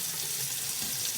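Cold water runs steadily from a kitchen tap while freshly caught fish fillets are rinsed, a constant close hiss and splash with no talking.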